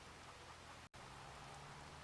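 Steady rain hiss in Farming Simulator 25, starting up as a field is worked, an even broadband patter with a brief dropout partway through, no talk.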